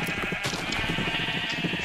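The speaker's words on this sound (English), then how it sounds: "Like, literally, there's sheep everywhere." Sheep bleating in the Minecraft video game, a dense run of short overlapping bleats from several animals, close and fairly loud, with almost no speech over them.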